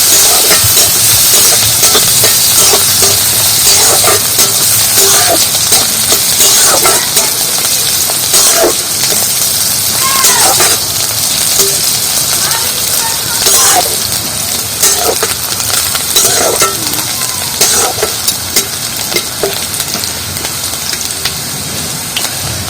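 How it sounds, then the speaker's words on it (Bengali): Onions and green chilies frying in oil in a pan, a dense continuous sizzle and hiss with scattered scraping clicks from stirring, close and steady throughout. "পেঁয়াজ আর কাঁচা লঙ্কাগুলো একটু লাল লাল করে ভেজে নিয়েছি"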